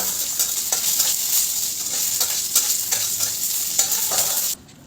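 Bay leaf, dry red chilli and cumin sizzle loudly in hot oil as a tempering for a broken-wheat khichuri, a dense close frying hiss with a few spoon clinks, ending abruptly into near silence.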